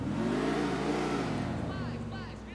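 A modified Oracle car in GTA IV revs its engine with a rising then falling mid-pitched whine, loud and close, fading slightly at the end as a faint voice chirps in the background.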